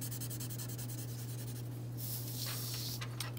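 Pencil burnishing across a value study drawing of a mug, a steady close rubbing and scratching of graphite on paper that thickens into denser strokes toward the end, over a constant low electrical hum.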